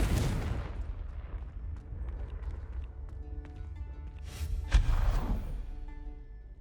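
A Confringo fire spell goes off in the Hogwarts Legacy game, with a booming blast and rumbling crackle after an opening rush of magic, and a second sharp impact later, all loud and close.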